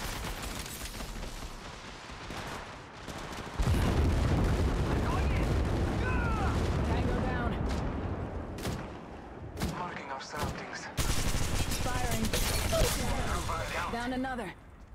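Apex Legends Mobile gameplay brings dense bursts of rapid gunfire and booming shots, loud and continuous, broken by short gaps, with in-game voice callouts over the shooting.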